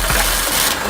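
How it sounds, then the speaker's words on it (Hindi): A tractor engine, started without a key, runs with a loud, steady rumble close by throughout. "तो ये तो स्टार्ट हो गया अपना ट्रैक्टर बिना चाबी के"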